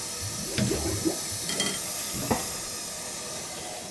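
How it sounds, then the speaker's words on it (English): Air hisses out of the water system of a gas boiler that is leaking from its relief valve, a soft steady hiss broken by a few faint gurgles and pops. "You can hear the air coming out."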